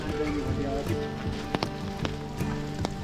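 Rain patters steadily during a misty hike at Kamikochi in Japan, a dense hiss with scattered close drips and taps, while people talk faintly nearby.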